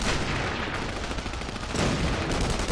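Rapid bursts of sniper rifle and other gunfire in a World War II-era battle from the video game The Saboteur, dense and continuous with overlapping shots throughout.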